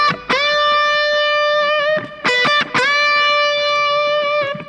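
Distorted electric guitar playing whole-step bends within a pentatonic scale, with sustained, overdriven notes that rise in pitch and are picked again several times, loud and close, with no talking.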